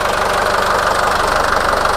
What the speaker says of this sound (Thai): อาดูเครื่องยนต์นะครับ